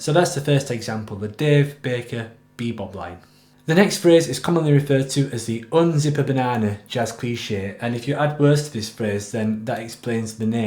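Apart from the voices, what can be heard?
None of the usual background noises is heard.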